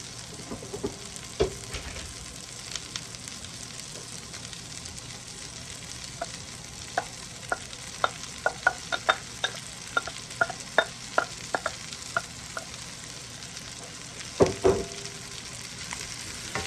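Broccoli and onions stir-fry in a pan with a continuous loud sizzle, broken midway by a run of quick spatula taps and scrapes against the metal.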